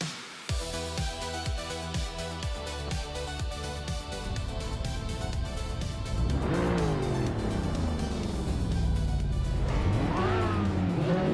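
Retro street cars race in a video game at Alice Track. An engine revs loudly through rhythmic gear pulses, then climbs and falls in pitch as cars accelerate and pass, without pause.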